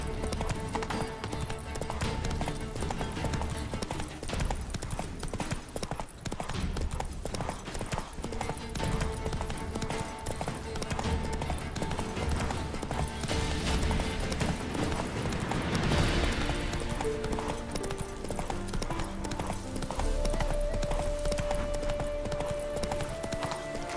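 Roach, Geralt's horse in The Witcher 3: Hearts of Stone, gallops with steady, continuous hoofbeats under dense game music and ambience, with no pause across the stretch.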